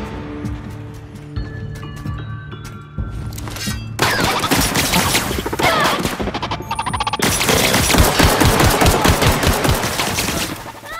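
Dense gunfire rattles through a combat scene in The Outer Worlds, building from scattered shots over game music into loud, sustained automatic bursts and crashes that fill the mix.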